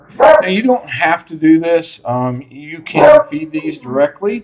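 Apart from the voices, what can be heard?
dogs barking in the background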